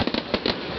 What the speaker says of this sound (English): Did you see the fireworks where you are?